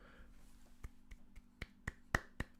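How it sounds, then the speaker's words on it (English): A slow, sparse golf clap of about eight crisp, quiet claps at uneven intervals, close and isolated against a faint hum, with no voices. "golf clap"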